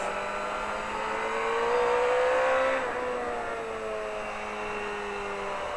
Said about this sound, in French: Et là, je redresse la moto et j'accélère.